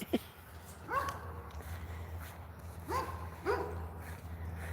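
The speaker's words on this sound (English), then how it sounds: "There's a big gray dog over there." A few short, high yips from a dog somewhere off in the distance, spaced out over a low steady background hum.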